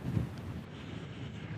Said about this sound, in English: as you can tell, still very windy out here